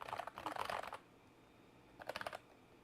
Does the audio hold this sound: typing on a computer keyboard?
yes